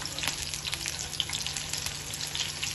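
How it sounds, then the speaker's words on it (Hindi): Tomatoes and onions fry in ghee in a pan for a dal and egg dish, giving a steady, close, crackling sizzle throughout with no talking. "इसके ऊपर हमने घी डाल देते, इसमें टमाटर और प्याज"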